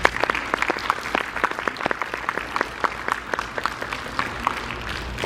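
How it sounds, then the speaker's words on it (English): An audience at a school math competition gives a round of applause for the contestants, many hands clapping in a brisk, even patter that holds at moderate loudness from start to finish. "One more big round of applause for our contestants."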